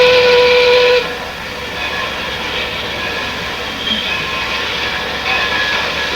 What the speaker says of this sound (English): The children's railway encircles the entire park.